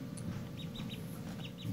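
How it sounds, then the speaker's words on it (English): Baby ducklings peep in short, high, faint chirps in a quiet indoor space, a few scattered calls spaced irregularly over a low background hum. "she got these adorable ducks"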